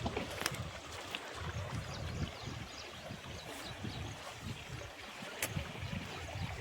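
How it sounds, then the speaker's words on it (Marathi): Fast-flowing water rushes through a stream channel beside farm fields, a steady low churning roar that is faint and constant, with a few splashy bursts. "वड्याला लय फास्ट पाणी चाललंय."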